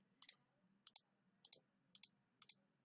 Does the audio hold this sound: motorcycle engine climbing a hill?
no